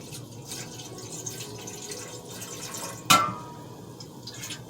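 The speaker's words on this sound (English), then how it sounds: "I'm going to add some water to this pot." Water is poured into a cooking pot in a home kitchen, a soft steady trickle with light drips, followed by a sudden sharp splash or clink partway through.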